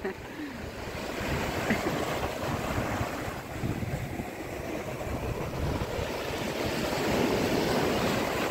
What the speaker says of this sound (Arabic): الموج بيبقى عالي بيسحب